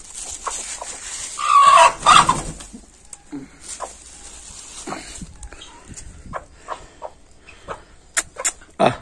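Young hens cluck and squawk in several short bursts, loud and close, with a louder flurry of agitated calls early on and scattered clucks later, against a quiet background.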